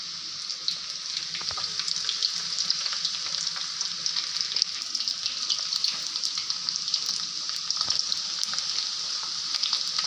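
Karam chuttalu roasting in a pan give a steady, close sizzle with faint crackles and occasional stirring scrapes throughout, with no talking over it.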